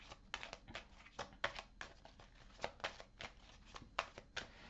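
Tarot cards being shuffled by hand, a brisk run of riffling, slapping bursts close to the mic with short pauses between, quiet and with no talking.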